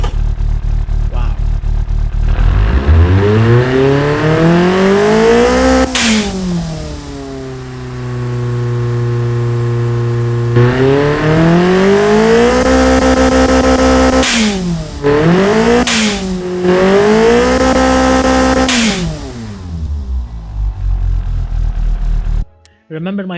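A tuned turbocharged Nissan KA24DE engine with a fatter intercooler and changed cam profile, making 375 horsepower, revs repeatedly: long climbing and falling sweeps with sharp blips between them, loud and close, ending abruptly.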